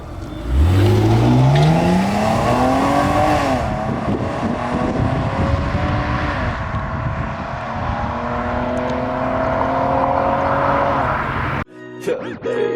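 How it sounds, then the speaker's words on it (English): A car engine revs up from idle in a rising whine, then holds a steady drone as it cruises, fairly loud and close, with a sharp change near the end. "let me just get used to this new engine real quick"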